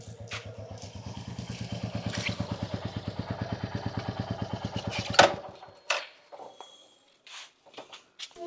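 A motorcycle engine idles with a fast, even chugging thump that grows louder, then cuts off abruptly, leaving scattered clatter and footsteps in the quiet afterward.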